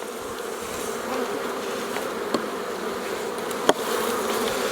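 Honeybees buzzing around an open hive during an inspection, frames of fresh drawn comb exposed, a steady close droning hum with a couple of sharp knocks as frames are handled.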